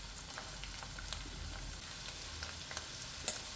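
Chopped ginger dropped into about 100 ml of hot oil for Kerala-style chicken pickle, a faint, steady crackling sizzle with a few small sharp pops, close by and quiet, no one speaking.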